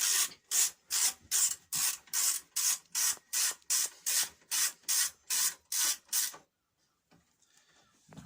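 Rapid repeated rasping bursts, about fifteen evenly spaced strokes over six seconds, from an 8mm socket wrench ratcheting out carburetor bolts on a Briggs and Stratton 6.75 engine, close and loud, then near silence.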